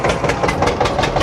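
A tractor engine runs close by on a wheat field, a loud, steady low rumble with rhythmic chugging pulses and no talk.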